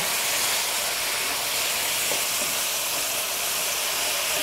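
Pork and pineapple stir fry sizzles loudly and continuously in a hot pan while being stirred, a dense hissing wash close up with faint scraping underneath.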